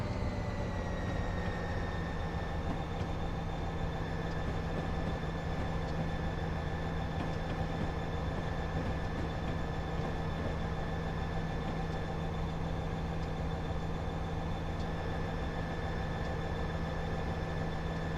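A freight train locomotive runs in Train Simulator Classic with a steady, loud drone of engine hum and sustained tonal whine, unchanging throughout with no voices.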